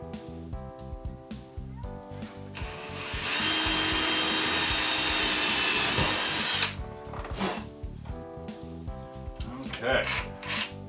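A small bit in a power drill bores a pilot hole during a mid-sponson install on a 2017 Kawasaki SX-R 1500 jet ski, a steady high whine lasting several seconds amid clattering tool handling before and after.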